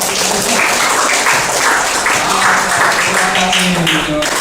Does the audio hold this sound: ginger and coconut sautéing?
no